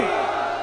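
A crowd at a religious gathering shouts the slogan "Haidari" in unison in answer to a call. It is a short, loud, massed burst of voices that fills the whole moment.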